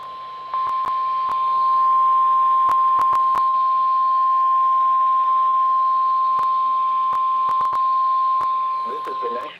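Specific Area Message Encoding weather alert tone from the National Weather Service, a single steady, loud beep held for about nine seconds, broken by faint clicks and ending with a brief crackle.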